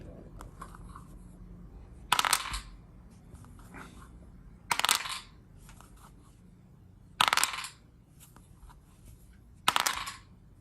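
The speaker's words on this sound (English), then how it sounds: "So we throw one dice" Dice thrown in a game of chance, heard four times: each throw is a sharp clattering burst that rattles and settles, spaced about every two and a half seconds, close up over quiet background.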